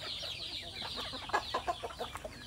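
Native chickens clucking on a Philippine farm, several soft close clucks and short calls in quick irregular bursts over faint background noise.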